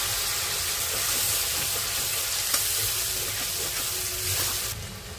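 Mustard paste poured into hot oil in a pan while cooking prawns, giving a loud, steady sizzle and bubbling hiss throughout, with no voices.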